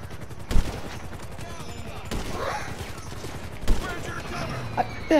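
Three spaced, heavy sniper rifle shots in a video game, aimed at a helicopter, each a sharp loud crack with a decaying echo, amid engine and ambient game noise and brief talking.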